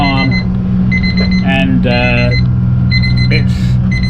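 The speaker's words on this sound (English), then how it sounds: "as you can hear in the background, we've got an alarm" An engine-check alarm beeps in repeated bursts of high tones over a steady low engine rumble, with someone talking through it.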